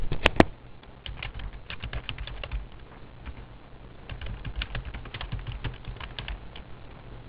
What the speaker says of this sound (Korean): 직접 주소를 타이핑해서 입력하도록 하겠습니다.